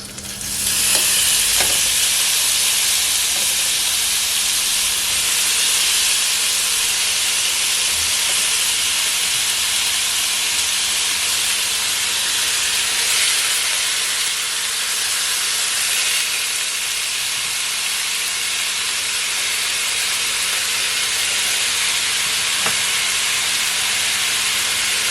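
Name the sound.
beef frying in olive oil in a pan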